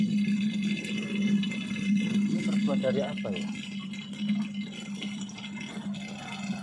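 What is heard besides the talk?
water flowing inside ancient buried structure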